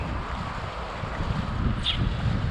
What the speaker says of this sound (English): Here is a zone with a good wind,